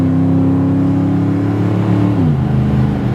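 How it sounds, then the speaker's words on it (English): A 1993 Ford F150 SVT Lightning pickup with a stainless exhaust accelerates hard, its engine droning at a steady pitch, then dropping as it shifts gear around two seconds in. The exhaust stays loud and close throughout, with no talking. "Got a lovely sound out of that stainless exhaust."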